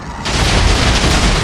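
Bomb explosion in Minecraft with lucky blocks, a sudden loud close boom that breaks in and then roars as a dense, sustained rumble of blast noise, with no speech.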